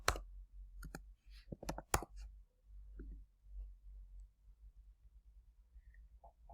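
A computer mouse clicks several times, sharp, close and quiet, in an irregular cluster near the start, followed by a few faint scattered clicks against near silence.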